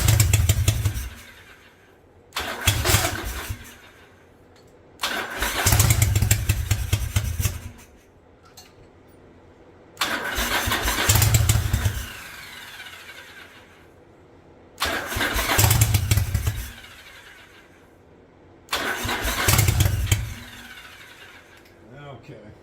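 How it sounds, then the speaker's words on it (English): Barn-find Yamaha Virago motorcycle with a single-carb conversion, firing on one cylinder, cranked and catching in repeated loud bursts of a few seconds each, separated by quieter gaps, with someone talking in between. "Firing, but it looks like it's only firing on one cylinder."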